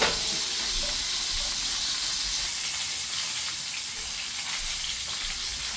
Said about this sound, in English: I'm going to sear it and then I'll be back.